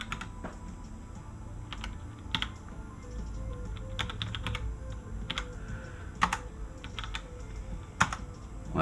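Rapid, irregular typing on a computer keyboard during an Arch Linux installation, with sharp key clicks coming in uneven bursts and a few louder taps standing out against a quiet room hum.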